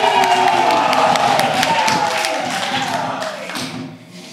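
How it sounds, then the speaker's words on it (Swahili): Church congregation applauding after a homily on the reception of the cross, a dense, sustained wash of clapping from a crowd that slowly thins and fades toward the end. "Makofi kwake."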